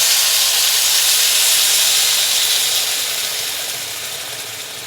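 Dissolved stock poured into a hot pan of sweet potato and chorizo soup, giving a loud, steady steamy hiss that slowly fades over a few seconds.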